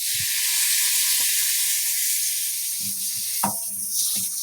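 Chopped tomatoes fry in hot oil for dal methi, giving a loud, continuous sizzling hiss close by, with a few soft low knocks from the pan beneath it.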